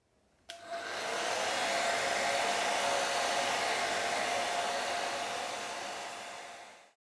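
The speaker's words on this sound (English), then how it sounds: "I've sped up the process a little bit with a hairdryer." A hair dryer switches on abruptly and blows with a steady, loud whooshing hum for several seconds, drying drawing work, before winding down and stopping.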